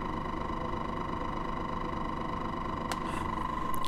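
A pulse motor runs steadily after its output is disconnected, giving a constant close hum with a strong tonal whine, joined near the end by a couple of brief clicks.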